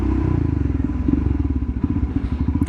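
Royal Enfield Himalayan single-cylinder motorcycle with an aftermarket exhaust, a loud, close, steady low thumping beat that holds a regular rhythm throughout.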